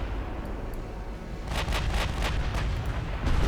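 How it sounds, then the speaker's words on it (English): A battleship's secondary and main guns fire in Ultimate Admiral Dreadnoughts, a rapid run of heavy booming blasts after a low rumbling lead-in, the reports overlapping in a dense barrage. "Ireland is opening up with both her secondaries and main guns"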